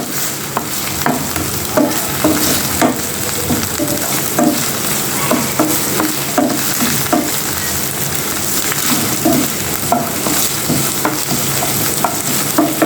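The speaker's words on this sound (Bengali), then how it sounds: "আদা রসুন বাটাটা আমি তেলের মধ্যে একটু ভেজে নিব" Ginger-garlic paste frying in oil for a pangas fish curry, a steady loud sizzle with repeated scraping stirs throughout, no talking.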